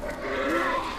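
A young lamb gives one close, wavering bleat lasting about a second, loud and clear with no talking over it.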